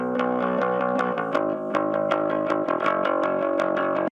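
A bass guitar played through an amp simulator, plucked notes in a steady rhythm with a slightly driven, bright tone, ending abruptly.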